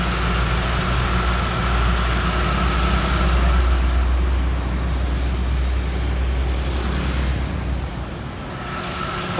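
A 2009 Chevrolet Spark with a manual gearbox idles close up, its small engine giving a steady, smooth, even rumble that continues throughout with no talking.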